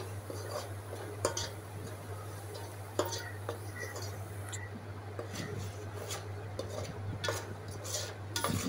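Fish curry ingredients, including coriander powder and roasted cumin powder, stirred in a pan, with scattered spoon scrapes and clinks against the pan over a steady low hum.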